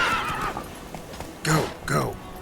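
Roach the horse in The Witcher 3 whinnies twice in quick succession, loud and close, after a short vocal cry, with hoofbeats beneath.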